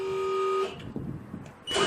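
The warning horn of an aerial work platform sounds during a function test: a loud, steady blast lasting over half a second, a short pause with low mechanical noise, then another blast starting at the end.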